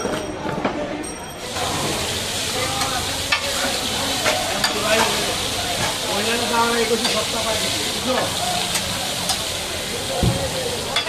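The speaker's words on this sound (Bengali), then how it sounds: "ইলিশ মাছ কাটার পর ভাজা হচ্ছে" Hilsa fish frying in a pan at a riverside ghat stall, with a steady loud sizzle and crackle of hot oil, frequent stirring and scraping, and people talking over it throughout.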